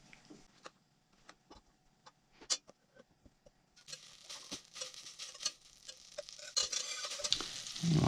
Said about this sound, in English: So the first thing we're going to do is get the heat going and melt our butter.